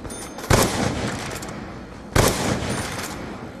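Two heavy blasts from the Olympia shotgun in a Zombies shooter, about one and a half seconds apart, each a sharp boom that fades into a decaying echo.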